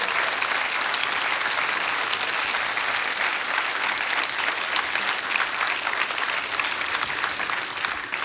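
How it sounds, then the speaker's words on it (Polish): A studio audience at a Polish TV game show claps in a dense, sustained round of applause that holds evenly loud from start to finish, with faint crowd murmur beneath it. "No słyszycie, piękne brawa"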